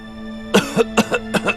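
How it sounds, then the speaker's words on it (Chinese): A man sick with a cold coughs in short harsh bursts, three pairs of close, loud coughs in quick succession after a brief quiet start. "才这几天偶感风寒，一直咳嗽不停。"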